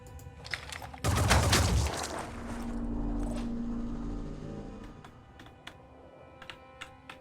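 Gunfire in the turn-based tactical game Phoenix Point: a sudden dense burst of rapid shots lasting about a second, followed by a rumbling decay and scattered faint ticks and clicks.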